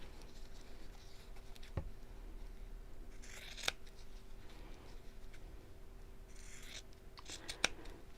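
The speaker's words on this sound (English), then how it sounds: "I'm just going to trim this down to the width of the zip" Scissors trim fabric down to the width of a zip during a sewing session, making a few quiet, crisp snips spaced several seconds apart over a soft, steady background hiss.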